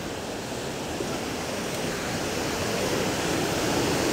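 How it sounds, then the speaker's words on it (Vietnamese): A large waterfall in an old-growth forest roars steadily, a dense, unbroken wash of rushing water that stays loud and close throughout with no voices. "Thác to quá."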